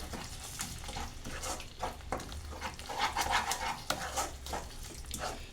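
Yogurt is stirred into a fox nut (makhana) curry in a pan, with irregular wet scraping and knocking from the spoon over a soft, low background.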